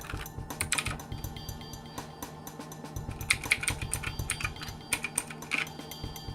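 Keys clatter on a DREVO Gramr 84-key backlit mechanical keyboard, a close, steady run of crisp clicks and clacks with uneven rhythm and a few louder strikes, and no talk.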